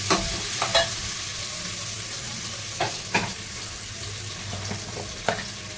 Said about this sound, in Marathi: आता इथे मी शेंगदाणे टाकून घेत आहे. शेंगदाणे थोडीशी तेलातून घ्यायची, जास्त नाही, चव येण्यासाठी.